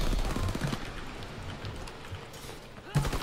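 Gunfire in Call of Duty: WWII, dense overlapping rifle and machine-gun shots crackling continuously in the background, with a louder close shot near the end while a voice talks over it.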